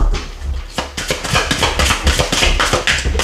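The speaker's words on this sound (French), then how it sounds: "vous entendez du bruit, c'est le chien qui se balade." A dog moving around a room, a rapid series of close, sharp taps and clicks like claws on a hard floor, loud and quick in irregular rhythm.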